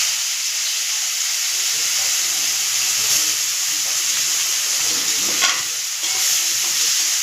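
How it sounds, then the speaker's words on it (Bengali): Finely chopped onion sizzles steadily in hot oil with cumin and dried chilli for a Bengali fish-head curry, a continuous loud hiss with occasional stirring scrapes and no voices. "তারপরে পেঁয়াজ কুচি দেবো।"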